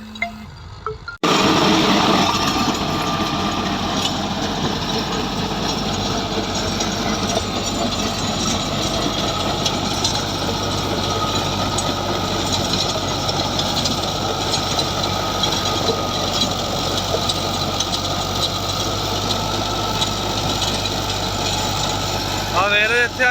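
A tractor pulls a Ghazi 54-blade rotavator cutter through a moist field, giving a steady loud engine drone and churning rumble that continues unbroken after a brief quiet start.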